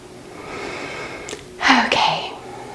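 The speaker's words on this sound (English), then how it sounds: "Just take some deep breaths." One person takes a slow, deep breath during a guided relaxation exercise: a long inhale, then a stronger audible exhale, close to the mic and otherwise quiet.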